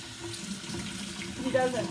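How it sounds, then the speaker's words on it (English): Steady running water splashing over an 8-week-old puppy in a bath basin, close and continuous, with light sloshing and a few soft squeaks near the end. "I'm just gently putting the water all over the puppy."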